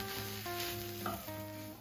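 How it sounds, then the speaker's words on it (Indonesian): Spices stir-frying in a pan for a gluten-free cwie mie with chicken, giving a steady close sizzle with light scraping of stirring and a faint tonal hum underneath, no voices. "Tumis hingga bumbu tercampur rata."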